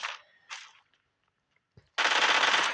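Gunfire from a weapon in a video game: two short bursts, a pause, then a sustained loud automatic burst at close range.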